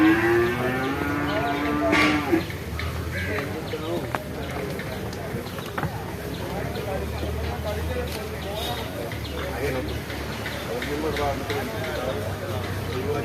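Cattle at the Kollannur livestock market, with bulls, cows and calves, moo loudly near the start over a steady crowd din of voices and market noise that runs throughout.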